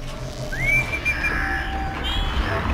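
A player character whistling in the video game Horizon Zero Dawn, a single rising then level whistle tone lasting about a second, with a second faint whistle shortly after, over quiet game ambience.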